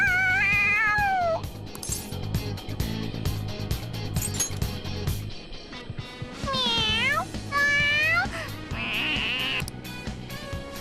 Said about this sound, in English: The cat's acting awfully excited.